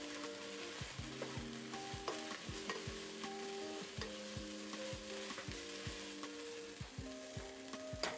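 A spatula sweeps and scrapes through lasagna soup ingredients in a hot pan, with repeated rhythmic scraping strokes roughly every half second over a soft continuous sizzle, close up and fairly quiet, with no talking.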